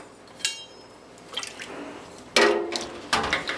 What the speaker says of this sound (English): the next step is to strain the curds into a colander